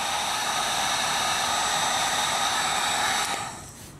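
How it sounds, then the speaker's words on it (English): A handheld heat gun blows hot air in a steady, loud broadband whoosh, used on heat-shrink ends while wiring LED trailer lights, then cuts off near the end as the airflow winds down. "Heat gun."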